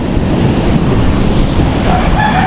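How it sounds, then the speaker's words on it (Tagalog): Sea waves stirred by the strong southwest monsoon wash in as a continuous, loud, broadband rush of surf with heavy wind noise on the microphone, with no voices. "Buti nga, ganyan lang yung pinaka-alon niya, hindi yung talagang sobrang laki."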